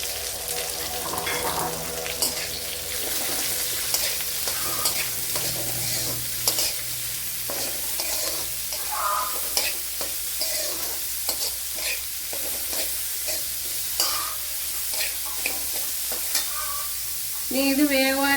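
Sliced onion sizzles steadily in hot oil in a pan while being stirred for cauliflower thoran, a continuous frying hiss broken by frequent scraping clicks of the spoon, close and fairly loud.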